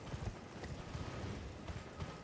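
Horse hooves gallop in the video game Elden Ring, a steady rapid drumming of thuds under a dense, noisy game soundscape, fairly loud and continuous.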